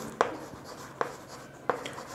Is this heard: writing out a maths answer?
yes